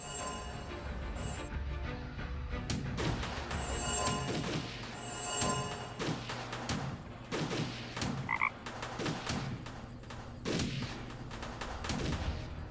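Frog croaking in the point-and-click video game Chaos on Deponia, a run of loud, rough croaks repeating in uneven bursts over a busy background, with no talking.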